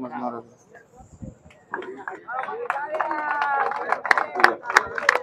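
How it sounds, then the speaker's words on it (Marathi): Audience clapping at a divisional sports competition prize ceremony in Dharashiv, a crowd's applause rising and swelling into dense, steady clapping after a voice speaks over a public address. "जोरदार टाळ्या झाल्या पाहिजे."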